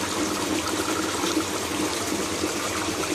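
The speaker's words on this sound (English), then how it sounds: "So the water is continuously running" Water runs continuously into an aquaponics grow bed, giving a steady, even trickle and splash that stays at the same level throughout with no break.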